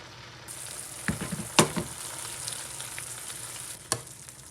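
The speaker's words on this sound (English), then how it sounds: "So now, guys, I'm gonna throw my potato on top of it." Potatoes dropped into a pan with canned chili and black pepper sizzle steadily, with a few sharp clatters and splatters as pieces land, fairly close and moderately loud.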